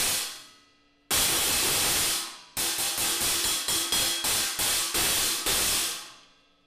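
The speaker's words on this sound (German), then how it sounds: "Sehr laut, sehr zischig. Alles sehr interessant vom Klang her, die drei Stacks." A stack of three cymbals laid on a drum is struck repeatedly, giving loud, trashy hissing crashes: one long wash that decays, then a run of short choked hits in quick succession, ending in a final ringing crash that fades out.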